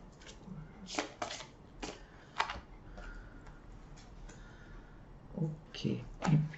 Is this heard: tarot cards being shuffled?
yes